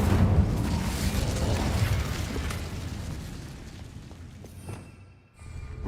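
Incendio fire spell cast in Hogwarts Legacy: a loud fiery burst that dominates at once, then roars and fades over several seconds, ending with a quick swell of noise.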